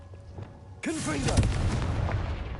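A Confringo fire spell blasting in Hogwarts Legacy: a sudden loud explosive boom that cuts in sharply, followed by a crackling, rumbling burst with whooshing tails that carries on to the end, under game ambience.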